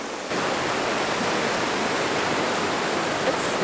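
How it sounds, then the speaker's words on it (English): Strong, rushing creek water near Thompson Falls Dam, a steady dense roar that fills the whole clip, close and loud with no voices. "the water is like really strong"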